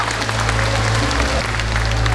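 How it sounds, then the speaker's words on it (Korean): Loud, sustained audience applause fills a hall at a commemorative event for Park Chung-hee's 107th birth anniversary, a steady wash of clapping over a low hum, with no break. "박근혜 대통령께 다시 한번 큰 박수 부탁드리겠습니다"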